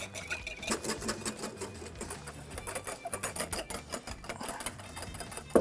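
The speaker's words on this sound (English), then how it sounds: "now we start whisking" A whisk beats chilled heavy cream with confectioner's sugar and vanilla in a bowl, giving rapid, steady metal clicking and tapping for several seconds, close and fairly quiet.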